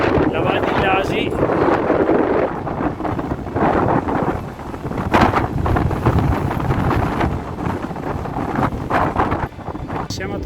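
Strong mountain gusts of wind buffet the microphone in continuous roaring bursts above the Val di Lasi, with a voice speaking underneath.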